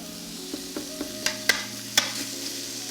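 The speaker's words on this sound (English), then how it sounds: "we'll add our onions and just give that a little bit of a stir" Onions cook in a hot pan for garlic shrimp pasta with a steady low sizzle, while a utensil stirs and taps the pan in several sharp clicks.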